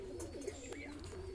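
A caged breeding pair of lakka fantail pigeons makes soft, low cooing calls in a brief close-up, with a faint chirp and quiet background hum.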